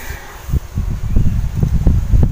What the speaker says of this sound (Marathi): हा मस्त वारा सुटलाय